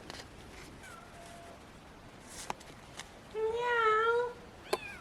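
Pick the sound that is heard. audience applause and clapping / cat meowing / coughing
cat meowing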